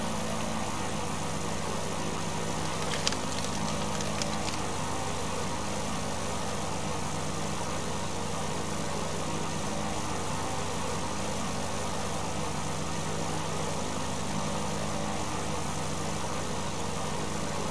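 A small airplane's engine idles while taxiing in Kentucky Route 0, a constant low, even rumble that holds steady throughout with a faint clatter near the start.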